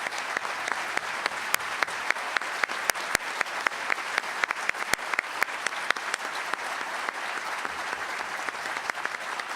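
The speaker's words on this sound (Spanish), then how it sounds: "este aplauso" Sustained spontaneous applause from an audience at a Spanish-language tax seminar, many hands clapping steadily at moderate distance for nearly ten seconds with sharp individual claps standing out, no speech over it.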